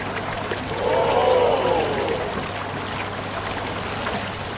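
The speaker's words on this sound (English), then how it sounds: "Wow, those water jets are really powerful." Water jets spraying dishes inside a toy LEGO dishwasher loaded with dish soap, a steady rushing, splashing spray that swells for a second or two and then settles into a continuous hiss, with no talk.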